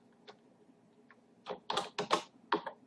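A few scattered keystrokes on a computer keyboard at first, then a quick cluster of clicks, tapped close by in a quiet room while entering equation solutions into a maths tool.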